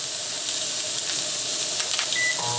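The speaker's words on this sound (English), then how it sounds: "I'm going to see if I can turn the microwave on" A short electronic beep near the end, then a steady low hum starts up, all over a constant background hiss.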